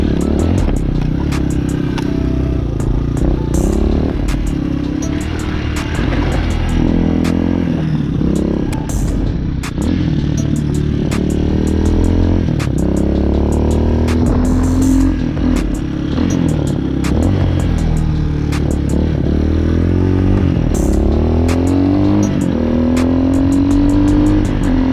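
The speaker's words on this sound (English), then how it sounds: "I personally like this exhaust a lot because it's loud enough to hear, but quiet enough for no one to really care what you're doing" A Honda Hawk 250 motorcycle with an aftermarket exhaust rumbles steadily while riding. The engine note rises and falls through gear changes, with rattles and wind noise over a loud, continuous drone.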